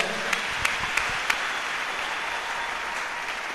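Church congregation applauding in a steady, dense wash of clapping that fills the space, with a few sharper claps standing out near the start.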